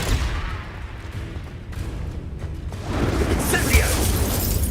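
A Confringo blast curse explodes in the Hogwarts Legacy video game, a loud broadband burst that rolls on for a couple of seconds, with an excited voice shouting over the game's combat noise.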